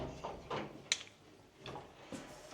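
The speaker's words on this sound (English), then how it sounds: "so we go through this door" A door in an old Tuscan house with wine cellars and a tunnel is opened, giving a few scattered handling sounds, a sharp latch click near the middle and soft creaks and thuds, quiet and close, with no speech.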